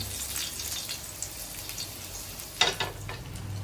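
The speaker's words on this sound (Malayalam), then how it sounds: "അതിന് വേണ്ട വെളിച്ചെണ്ണ കുറച്ച് ഒഴിച്ചു കൊടുക്കാം കുറച്ച് വേപ്പിട്ട് കൊടുക്കാം" Coconut oil and curry leaves sizzling in a pan before frying fish, a steady soft crackling fry with a brief louder burst of spattering near the end.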